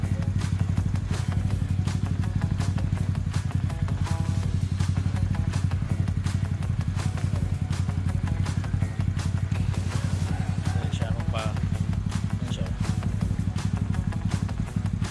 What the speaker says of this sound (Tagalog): Sobrang tiring ng ano ng idle niya.